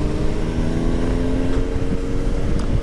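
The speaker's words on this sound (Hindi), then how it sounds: "हायाबुसा सारी लाइन में चल रही है, एक निंजा आगे है, एक निंजा लास्ट में" Superbikes including a Suzuki Hayabusa and Kawasaki Ninjas ride in a line on a mountain road, a loud, continuous engine drone with heavy wind rush close to the microphone.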